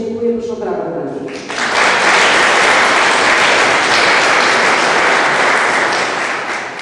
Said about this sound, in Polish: proszę o brawo dla niej